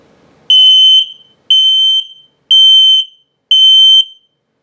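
An LP gas and carbon monoxide detector in a 2021 Heartland Bighorn RV sounds its alarm test, four loud, shrill, identical beeps of just under a second each, evenly spaced and very close.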